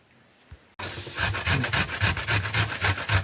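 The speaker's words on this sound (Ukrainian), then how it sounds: "Змішуємо перчики і морковку." Chopped peppers and carrots are stirred together for zucchini caviar, producing brisk, rhythmic scraping and rubbing strokes close by, starting abruptly after a moment of quiet and continuing in a steady pulse.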